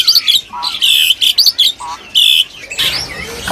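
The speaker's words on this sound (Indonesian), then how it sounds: "kita ke stok burung Foxe, Mas." Caged birds in a bird dealer's stock chirp and tweet nearby, a series of sharp, bright call bursts with brief pauses, loud and close, ending in a rustling flurry.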